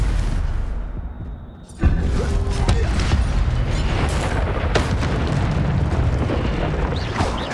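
A Stupefy spell is cast in Hogwarts Legacy, a heavy booming impact bursting after a brief hush, then a dense rumbling stretch of magical blasts and crackles that stays loud throughout.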